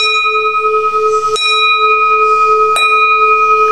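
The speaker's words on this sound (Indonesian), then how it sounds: "ini gongnya berarti sangat bagus sekali, bunyinya nyaring" Buddhist altar gong struck to begin worship, two clear, bright strikes about a second and a half apart, each ringing on with long sustained tones, close and loud.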